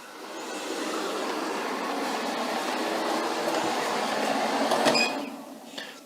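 A MAMNV robot vacuum and mop combo working across a ridged carpeted floor, producing a steady rumbling whir that holds for several seconds, peaks briefly, then fades as it moves away, with no speech.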